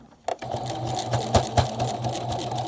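A sewing machine stitches quilt squares together, its needle thumping in a quick, even rhythm with a few heavier knocks, close by and with no talking.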